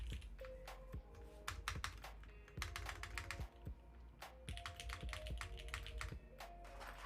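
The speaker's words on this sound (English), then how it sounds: "I think that's just the way the keyboard sounds." Rapid typing on a Glorious GMMK Pro mechanical keyboard with a brass plate and PC parts, close and clear, with irregular bursts of crisp clacky keystrokes and brief pauses, no talk.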